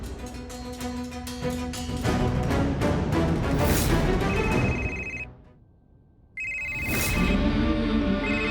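A telephone rings on an outgoing call inside a home during a family emergency, a repeating electronic tone sounding over a swelling dramatic music score, dropping out briefly near the end before returning.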